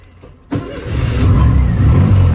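A 1968 Volkswagen Beetle engine cranks and catches after a brief quiet moment, then settles into a loud, steady idle close by with no talking.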